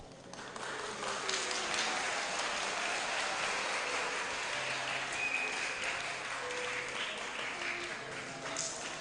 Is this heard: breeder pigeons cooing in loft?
no